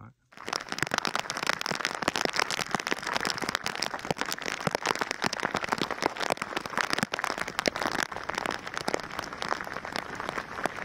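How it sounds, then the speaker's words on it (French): Rain falls steadily during a packraft expedition on Lake Inari in Lapland, a dense, continuous patter of drops that stays loud and even throughout with no pauses. "D'ailleurs, il pleut."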